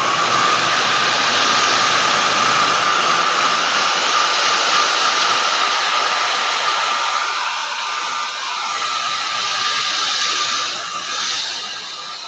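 A hairdryer blows loudly and steadily throughout, a constant airy roar with a slight dip in pitch near the end.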